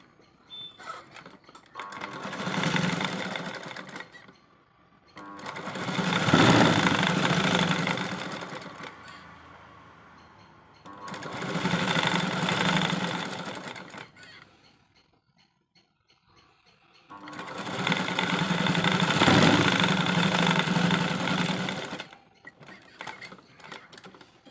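A sewing machine stitching the folded hem of a blouse runs in four long, steady whirring bursts close by, with short quiet pauses between the runs.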